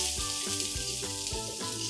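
Chopped onion, garlic and ginger frying in oil for aloo Manchurian, a steady close-up sizzle with a bright crackling hiss that keeps going throughout, without any talking.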